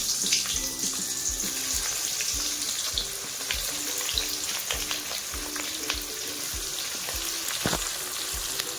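Onions frying in hot oil for a spicy dahi chicken, a steady close sizzle and crackle running throughout with occasional sharper pops and spatters, no talking.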